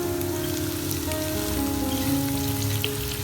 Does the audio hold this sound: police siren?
no